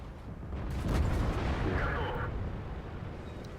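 Heavy tank gun blast in the video game World of Tanks, a deep booming shot fired at point-blank range that rolls and rumbles away over a few seconds, loud and low.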